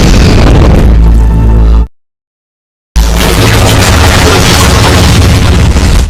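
A vehicle blows up in an action film: loud, dense explosive blasts and crackling roar, cut by a second of silence before a second sustained boom with rumbling debris.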